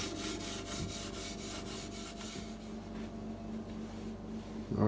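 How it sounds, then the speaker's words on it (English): Steel wool rubs steadily across the wooden cabinet of a 1935 Airline radio, a close, even scrubbing texture with a few rhythmic strokes early on, ending in a louder knock or handling sound. "Just going to steel wool it. It really smooths it up"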